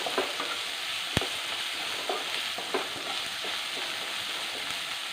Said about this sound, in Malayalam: തക്കാളിക്കൊന്ന് വഴന്ന് വരട്ടെ.